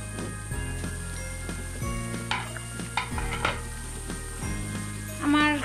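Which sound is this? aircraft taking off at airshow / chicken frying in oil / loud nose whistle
chicken frying in oil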